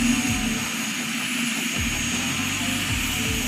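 A Helicycle homemade kit helicopter gives off a steady, droning engine and rotor hum that stays constant and fairly loud throughout, with no pauses.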